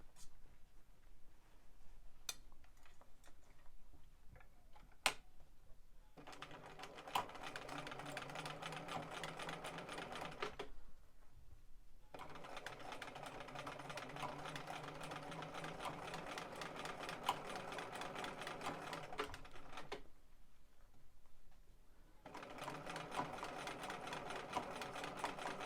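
A sewing machine fitted with a blind hem foot runs steady, rapid stitching in three long bursts, stopping briefly between runs, close by and clear.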